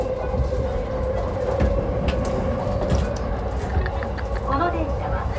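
A Yamanote Line train in Japan runs along with a steady, close rumble and faint rail clatter heard from inside the carriage, while people talk throughout over the noise.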